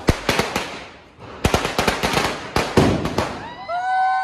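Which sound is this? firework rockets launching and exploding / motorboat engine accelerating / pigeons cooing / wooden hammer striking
firework rockets launching and exploding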